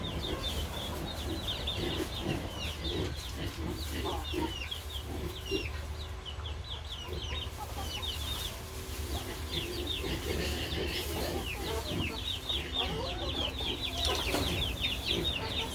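Egg-laying hens kept at home in the rainy season cluck and chatter continuously, several birds calling at once at close range over a low steady background hum.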